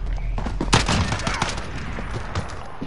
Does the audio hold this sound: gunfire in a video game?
yes